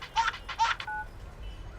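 A phone ringing in short repeated electronic bursts, two loud rings close together followed by a fainter steady tone, with no one speaking.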